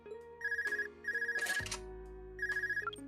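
A phone in Trails of Cold Steel rings in short trilling bursts, two quick rings, a pause with a soft thud, then another ring, bright and electronic against a low steady hum.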